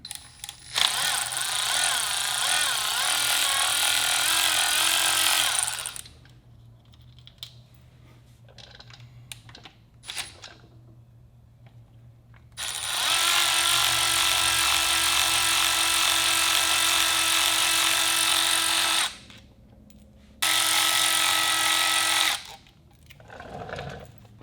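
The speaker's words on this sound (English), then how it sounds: "handy electric ratchet." A handheld 10mm electric ratchet spins bolts off the bearing retainer of a SkyTrax PSRU output shaft on a Yamaha APEX engine, giving two long, loud whirring bursts and a short third one, with quiet clicks and handling noises in the gaps.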